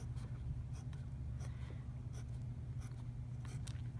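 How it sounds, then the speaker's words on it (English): A pen drawing tape diagrams on paper, making quiet scratchy strokes in short irregular bursts against a low steady hum, faint and close. "So I'm going to draw that as well."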